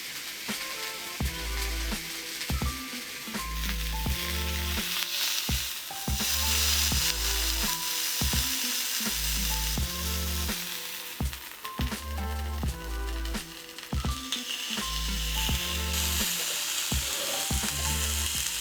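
Pork searing in a grill pan while cooking roast pork, a steady close sizzle running throughout with repeated rhythmic bursts layered over it.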